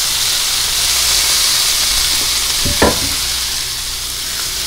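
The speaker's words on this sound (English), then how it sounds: "let's sauté our onions and our tomatoes." Onions and tomatoes sautéing in a pan give a steady, fairly loud sizzle and hiss, with a brief clatter of utensil against pan near the middle; no one speaks.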